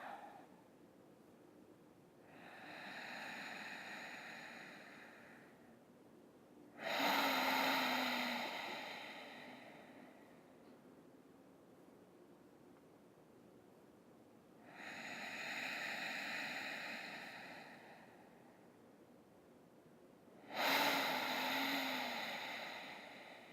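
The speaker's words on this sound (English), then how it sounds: "inhale for 4 counts and exhale for 4 counts" Slow yoga breathing, four long breaths close to the microphone: soft drawn inhales alternating with louder, breathier exhales, each lasting a few seconds, in a quiet room.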